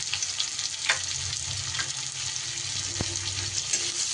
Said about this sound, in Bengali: রসুন আর পেঁয়াজ ভালো করে তেলের মধ্যে নাড়াচাড়া করে নেব।